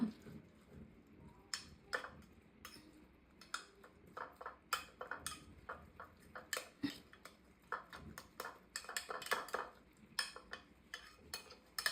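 Eggs being gently beaten in a bowl for egg-brinjal toast, with a string of quick, irregular clinks of utensil against the bowl, fairly close and light, with no talking.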